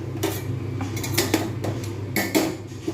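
Rice is spooned into a chicken biryani pot with potatoes, making repeated close metallic clanks and scrapes of a spoon against the pot over a steady low hum.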